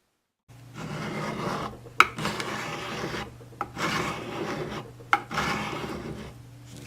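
A hand scraper shaves curls off wood in repeated raspy strokes, each a close, steady scrape lasting about a second, with sharp clicks where the blade catches between passes.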